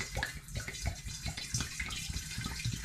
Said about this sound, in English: So I'm going to put this demijohn there, get the funnel in and start pouring